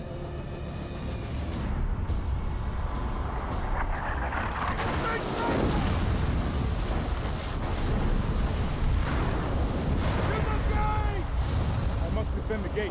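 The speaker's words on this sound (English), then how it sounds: "I guess they brought out the siege weapons" Siege weapons firing during a fortress gate battle in Middle-earth: Shadow of War, a heavy, continuous roar of booms and impacts that swells louder after the first few seconds, with no talk over it.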